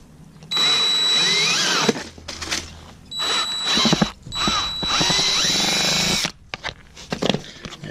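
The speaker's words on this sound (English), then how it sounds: "I gotta drill another hole on the new piece that I cut right here" A power drill boring a hole through a newly cut piece for a switch on a row boat livewell project, whirring loudly in three long bursts with short pauses between and some rattling at the end.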